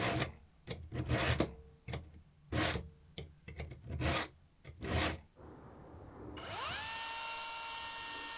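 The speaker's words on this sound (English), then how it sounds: "So I head into the garage to try sharpening the chain to see if this will make any difference." Chainsaw chain being filed by hand in a garage, with irregular raspy scraping strokes, then a loud steady motor whine that starts partway through and continues to the end.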